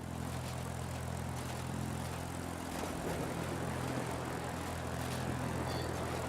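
A P-51 Mustang propeller fighter drones steadily in World of Warplanes, its engine a constant buzzing hum with a low harmonic tone, moderately loud and alone without voices.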